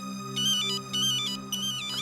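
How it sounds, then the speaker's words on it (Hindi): An electronic phone ringtone plays in repeating melodic bursts over a steady hum, loud and close, with no talking. "किसका फोन है"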